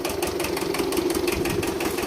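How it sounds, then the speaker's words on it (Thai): An old Japanese two-cylinder tractor engine rated at 15 horsepower runs at a steady idle, giving a close, pulsing chug with a rhythmic knock. No voices are heard. "ราคานี้ 15 แรงม้าพี่ เครื่องยนต์2สูบครับ"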